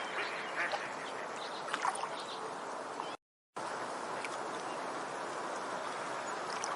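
Ducks quacking repeatedly over a steady outdoor background, with a brief gap of silence midway through.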